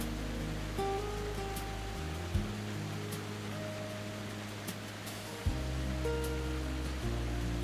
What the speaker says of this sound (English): It rises past thundering waterfalls, including the powerful Stigfossen Falls, which crashes down right beside the road